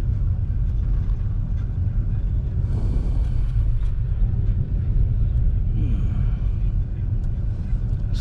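A lowered car driving with its exhaust pipe scraping the ground, a loud steady engine rumble with brief rough grinding bursts, while someone talks throughout.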